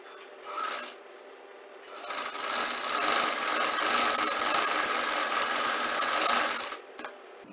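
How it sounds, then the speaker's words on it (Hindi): Electric sewing machine running a straight stitch to join two fabric pieces half an inch from the edge, a short burst near the start, then a steady, continuous loud whirring run of about five seconds that stops abruptly. "इनको जोड़ के सीधी सिलाई लगानी है पहले, इतने फासले पे, आधा इंच के फासले पे।"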